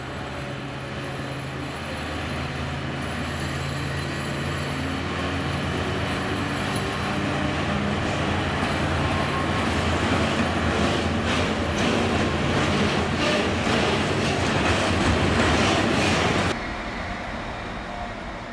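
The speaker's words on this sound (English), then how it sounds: "All 24 of the 736s are based in Zvolen and work freight trains over the steeply graded lines radiating from Zvolen" A ZSSK Cargo class 736 diesel locomotive hauls a freight train on a steeply graded line near Zvolen, Slovakia, a steady loud rumble with rolling wagon noise and faint wheel clatter building over the run before cutting off abruptly near the end.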